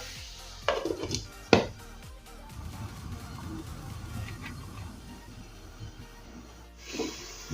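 A lid clanks down onto a pan of sautéed mixed vegetables on a medium-high gas flame, with two sharp metallic knocks early on, then a soft steady sizzle and a faint clink near the end.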